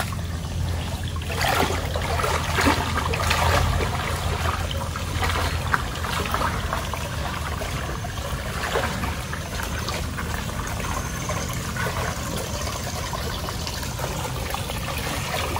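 Water flows steadily from a fishpond into a river, a continuous trickling, pouring rush at moderate level with no talk.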